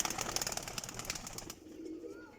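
Breeder pigeons in a loft coo softly in quick repeated pulses for a moment before falling to a faint, quiet background.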